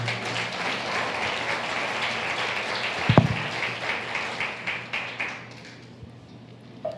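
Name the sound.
church congregation applauding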